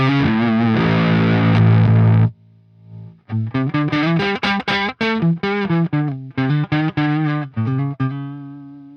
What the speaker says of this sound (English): You see the name of this plugin is called the 68 Plexi Crush